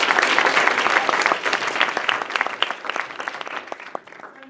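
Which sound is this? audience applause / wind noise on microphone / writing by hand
audience applause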